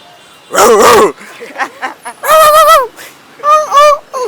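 A person imitates a dog barking, giving three loud, drawn-out vocal barks separated by short pauses and some softer voice sounds.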